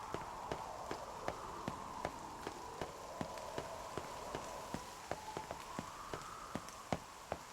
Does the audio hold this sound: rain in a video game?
yes